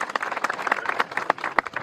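An audience at a Shivaji-devotee pilgrimage gathering claps together in a steady, moderately loud burst of applause, with individual hand claps distinct within the rhythm.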